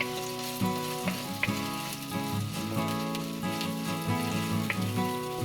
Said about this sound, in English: Once the oil is hot, we'll add the chopped onions